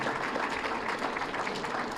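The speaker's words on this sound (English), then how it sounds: "Give them a round of applause." Audience at a Lackawanna County Commissioner victory celebration breaks into steady, continuous applause, a dense wash of clapping hands filling the room.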